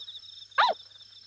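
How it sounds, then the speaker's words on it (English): A dog in the video game Yomawari: Midnight Shadows gives one short, sharp bark against a steady thin background tone. "Bark, bark, bark, bark, bark, bark."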